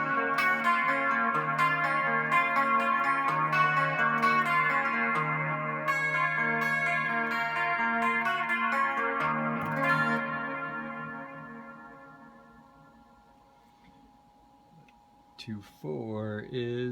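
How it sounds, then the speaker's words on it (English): A Roland GS-6 guitar preamp plays sustained guitar chords through its reverb and delay effect, with a long wash of echoes trailing off over several seconds before quieter notes return at the end. "The reverb and the delay go on for 3 seconds at least."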